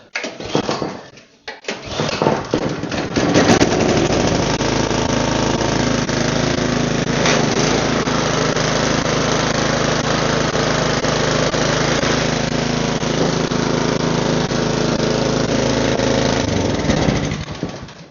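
A snow blower engine started with the choke off, coughing and catching within the first seconds, then running steadily at a loud, even roar for the rest of the time, close by.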